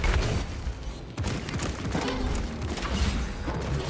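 Rapid hip-fired Stalker rifle shots in Space Marine 2, a dense, loud burst of gunfire mixed with booming impacts and game noise throughout, with a brief dip before the firing resumes.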